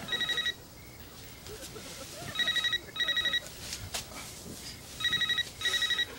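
A phone rings in short electronic trilling bursts, two pairs of rings separated by pauses, fairly close, with faint background noise between.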